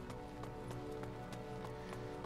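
Rhythmic clip-clop of horse hooves at a running pace in the game Attack on Titan: Wings of Freedom, quiet, over a background of game music.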